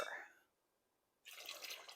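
Water poured into a pot of kichari with black-eyed peas, a short splash of liquid that breaks off, then returns as a steady, fairly loud pour filling the pot.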